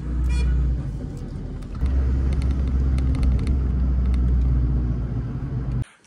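A car drives through winter Spiti in the Himalayan mountains, its engine rumbling loudly and steadily with road noise and a few faint clicks before the sound cuts off at the end.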